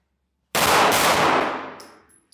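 Single loud gunshot during a live-fire shooting drill, close by, its sharp blast ringing out into a long reverberant decay over about two seconds before a faint click.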